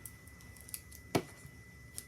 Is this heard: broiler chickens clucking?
no